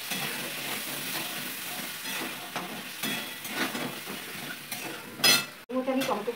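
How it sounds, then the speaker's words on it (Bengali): Vegetables for a winter mixed-vegetable khichuri being stirred and sautéed in a pan with turmeric and salt, a steady close sizzle broken by repeated scraping stirs and a sharp metallic clank near the end. "আমি আনাজটা কষবো।"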